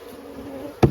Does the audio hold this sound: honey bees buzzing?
yes